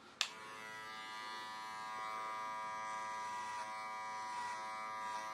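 Electric hair clippers buzz steadily and close up through a home haircut at the 2 guard, a continuous tonal hum beginning with a sharp click as they switch on.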